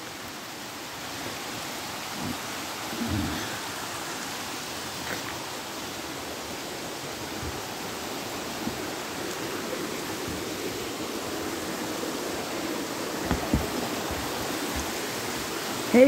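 Stream flowing beneath a small bridge near a seating area in Arapgir, Malatya, a steady broadband rush of water that holds even and continuous throughout, with faint knocks and footsteps now and then.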